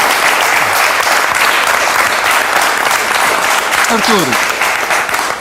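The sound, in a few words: applause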